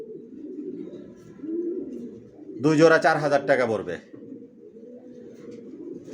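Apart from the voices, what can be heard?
racer pigeons cooing in a loft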